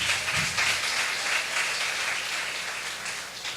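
A crowd applauds steadily, a dense wash of clapping that holds at an even level and fades slightly toward the end.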